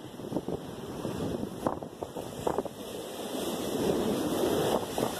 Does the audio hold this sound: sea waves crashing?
yes